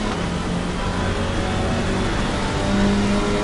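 An Alpine race car engine on the Hungaroring circuit in the rain, a loud, steady drone heard close up from the car, with no speech.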